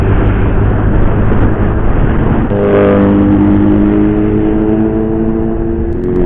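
A Suzuki GSX-R sport motorcycle engine drones loudly and continuously as it passes on a road ride in traffic, the tone swelling midway without any pause.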